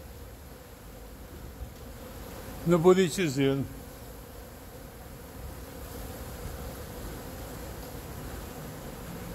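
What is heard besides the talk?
bees swarming on buriti palm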